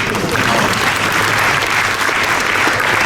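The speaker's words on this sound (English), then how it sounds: "applause." An audience at an Imagineering presentation at a theme-park industry expo applauds in a loud, dense, continuous burst of clapping from start to finish.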